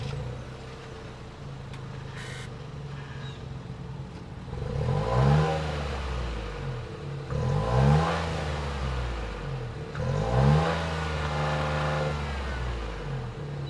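2025 Nissan Rogue Rock Creek's 1.5-liter turbocharged three-cylinder idles, then revs three times in quick rising-and-falling blips, each settling back to a steady idle, close and alone.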